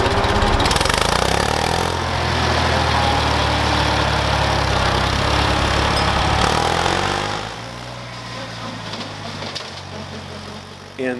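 A 1967 tractor engine runs with a brush hog mower attached, a loud steady mechanical drone with rough low rumble that drops to a quieter idle partway through, close by and with no voices.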